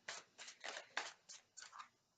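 Tattoo Tarot cards are shuffled by hand in about six quick, crisp bursts, each a short papery riffle, close and quiet with brief pauses between them.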